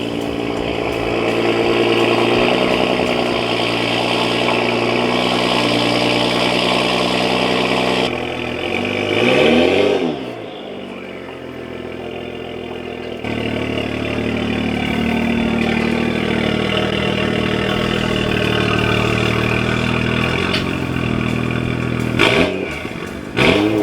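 A BMW 335i with a straight-pipe exhaust cold-starts in a garage and settles into a loud, steady idle, with a brief dip and sweep midway before the rumble resumes. The engine runs close by, with no talk over it.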